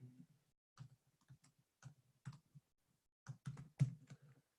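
Computer keyboard typing comes in short, sparse bursts of soft, close clicks separated by quiet pauses.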